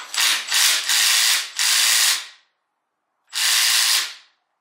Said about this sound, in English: Let's see if I can break it loose with this ratchet.